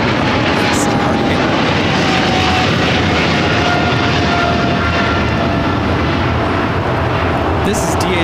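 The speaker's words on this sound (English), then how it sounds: "This is DHL, operated by Coletta Air 230, taking off to Seoul on the 777 freighter" A DHL Boeing 777 freighter bound for Seoul takes off from LAX with a loud, steady engine roar and a thin high whine running through it, while voices talk over the noise.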